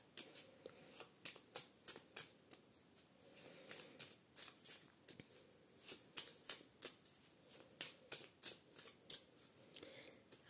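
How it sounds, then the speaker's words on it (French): Tarot cards being shuffled and drawn, a steady run of crisp riffling snaps and soft slides repeating close up with no talking. "Donc c'est parti pour le tirage par domaine."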